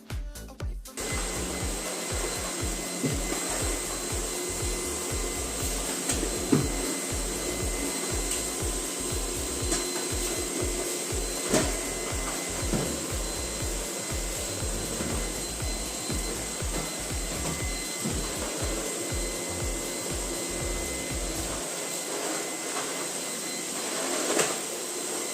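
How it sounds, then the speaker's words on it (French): A vacuum cleaner runs steadily across a large room with a constant motor whine and airflow hiss, along with rhythmic bumps and rubbing as it is pushed back and forth. The motor shuts off near the end. "je peux passer l'aspirateur partout dans la grande pièce."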